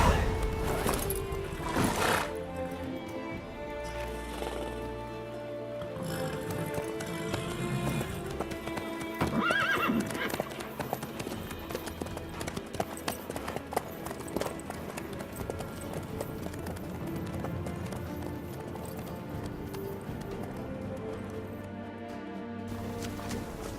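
Horse in The Witcher 3 moving steadily with continuous clip-clopping hooves and an occasional neigh, heard up close over a busy background.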